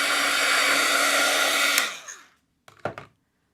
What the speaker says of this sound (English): I'm going to hit this with my heat tool just because that acrylic marker needs to dry